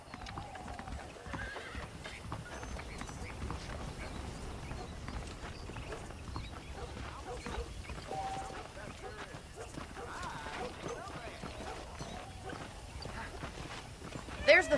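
Horse hooves clip-clop steadily in a retro video game, with an occasional whinny, a busy rhythmic patter heard under talk.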